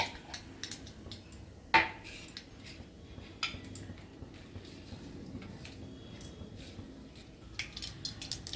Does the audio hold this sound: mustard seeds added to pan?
yes